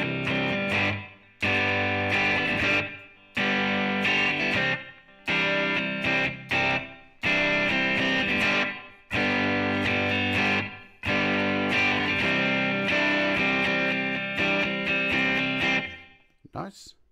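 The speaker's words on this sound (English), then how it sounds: "So you got a reverb in here too." An electric guitar runs through an iOS two-channel amp simulator with drive and reverb on, giving loud distorted chords in repeated strummed bursts with short breaks between them.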